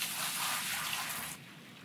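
Water pours out of a bucket onto a gold-washing setup in the mining game Gold Rush: The Game, a steady splashing gush that holds for over a second and then cuts off to quiet.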